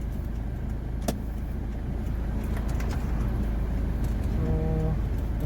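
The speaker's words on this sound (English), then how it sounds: "So now I'll just try out the manual car." A manual Toyota Innova pulling away in first gear gives a steady, close engine rumble throughout, with a short sharp click near the start and a faint whine toward the end.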